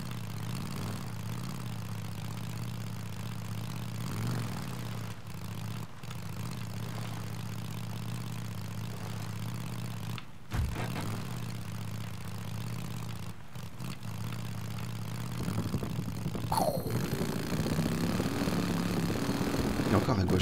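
A motorcycle engine runs as the rider travels in Days Gone, a steady low drone throughout, dipping briefly a few times, then a louder, rougher stretch near the end with rising revs.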